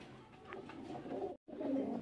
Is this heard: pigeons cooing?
yes